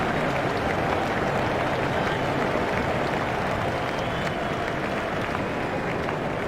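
A cricket crowd at Lord's during an Ashes Test applauds a shot, a broad, continuous wash of clapping from many spectators that holds steady and loud throughout.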